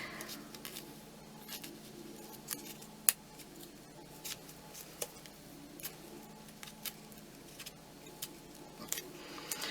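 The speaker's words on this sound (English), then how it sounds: "Feels like these scissors already want sharpening." Scissors snip through thick felt in a quiet room, with a scattering of short sharp cuts and clicks at an irregular pace.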